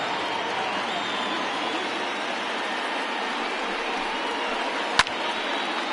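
Baseball crowd in a PS4 video game, a steady wash of distant cheering and crowd murmur holding evenly throughout, broken by one sharp click near the end.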